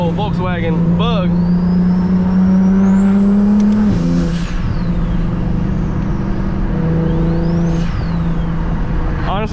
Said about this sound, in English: I love driving this car next to things because, man, the sound just echoes so good